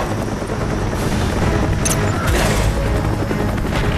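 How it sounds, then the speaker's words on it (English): Mortar strikes land in Call of Duty: Black Ops on the Demolition map, with dense rumbling blasts and crackling debris forming a continuous loud barrage, with no clear gaps between impacts. "Friendly mortars inbound."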